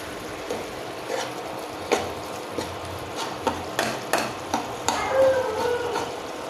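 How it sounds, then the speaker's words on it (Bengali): Pangas fish stir-fried with turmeric, chili and salt in a pan, a spatula knocking and scraping in an irregular rhythm of sharp taps over a low sizzle, close up. "দিয়ে দিয়েছি হলুদ মরিচ লবণ দিয়ে এটাকে আমি এখন ভালোভাবে কষাবো"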